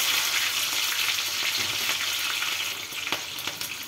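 Mustard seeds, cumin and green chili sizzle and crackle in hot oil in a home kitchen, a loud steady frying hiss with occasional pops, alone with no voices.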